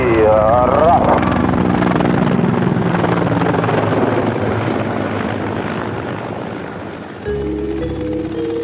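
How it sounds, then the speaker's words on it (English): Mi-24 combat helicopters flying aerobatics, a loud continuous rotor and engine roar that fades slightly and then steps back up, heard alongside music and a voice at the start. "It performs on the Mi-24 combat helicopters."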